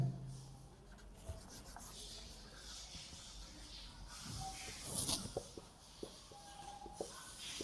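A pen writes a letter on paper, making faint, close scratching strokes with soft rubbing and a few light taps, unhurried and quiet against a low background hiss.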